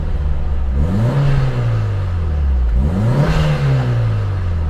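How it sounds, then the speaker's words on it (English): A car engine idles and is revved twice, each rev climbing and falling back, with a brief whoosh of the turbo blow-off valve as it settles, loud and close with no talk. "You hear the blow-off valve a little bit."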